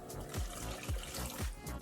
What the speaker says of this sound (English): I'm going to put another cup of water.